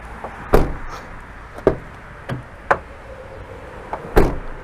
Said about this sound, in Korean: 트라고 문 여는 소리입니다